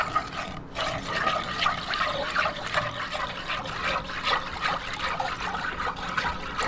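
Three cups of water poured into yellow gelatin powder while making a graham leche flan jelly dessert, a steady close trickling and splashing stream that runs the whole time without any talk.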